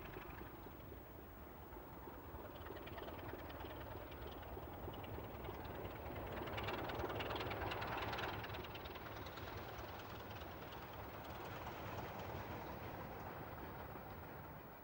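A Class 27 diesel locomotive hauling a ballast train on the East Coast Main Line in Scotland at restricted speed, a faint, steady engine drone and rail rumble that swells slightly midway.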